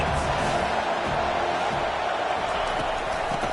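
Stadium crowd at an Ohio State football game, a steady, dense roar of cheering and shouting that holds loud and constant throughout with no break.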